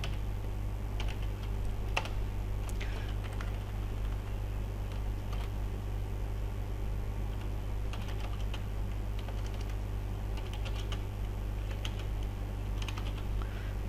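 Steady typing on a computer keyboard while an HTML label tag is written, with quick clicks and key taps scattered through the clip over a constant low hum, close and fairly quiet.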